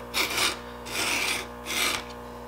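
Stihl chainsaw chain sharpened with a 2-in-1 file, three close, even rasping strokes of metal filing with short pauses between them, alone with no talk.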